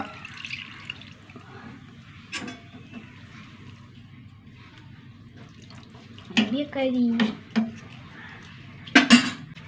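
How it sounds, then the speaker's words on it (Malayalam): Water is poured into a pan in short splashing bursts, with clinks of metal utensils in between and quiet kitchen noise. "കുറച്ച് വെള്ളം ഒഴിച്ച് കൊടുക്കുക"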